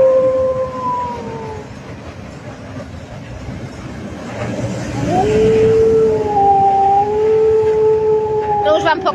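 A coal train rolls into Głogów, Poland, with a loud, sustained rail rumble and long horn-like tones that rise and shift near the end, heard nearby.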